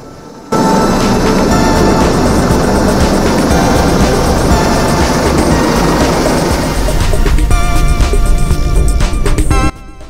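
A Coast Guard Auxiliary rescue helicopter hovers close overhead during a guideline and rescue swimmer exercise, its loud, dense rotor and engine roar starting abruptly and holding steady for about nine seconds before cutting off.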